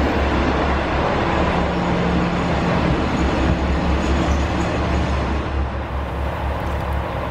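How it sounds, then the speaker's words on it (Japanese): A diesel railcar on the non-electrified Inbi Line at Tsuyama station rumbles loudly and steadily up close, a constant heavy engine drone with faint tonal hums and no speech, its sound carrying through the mountain valley in the early morning. "早朝からディーゼルエンジンの音が山あいに響き渡ります"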